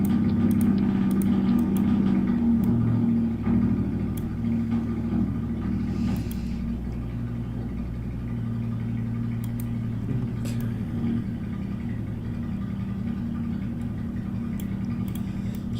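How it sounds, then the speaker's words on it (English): A motorcycle starts up and runs outdoors, its steady low engine rumble loud and constant throughout, with a brief rise in revs near the start. "Oh, I've got a motorcycle starting up outside,"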